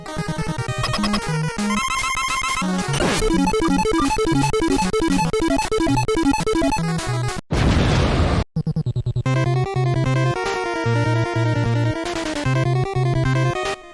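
In the Mega Man video game, chiptune music and rapid electronic effects play loudly. A harsh burst of noise bursts out midway as the boss explodes, followed by more looping game music.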